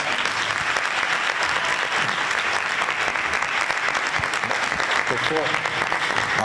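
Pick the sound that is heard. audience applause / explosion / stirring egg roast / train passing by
audience applause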